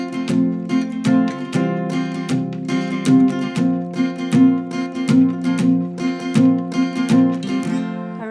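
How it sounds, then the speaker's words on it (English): Guitar strummed at full tempo with palm muting, a steady run of chord strokes over several seconds, close and clear, the muted downstrokes alternating with brighter ringing upstrokes and no voice. "So sped up at full tempo with a palm mute, it sounds like this."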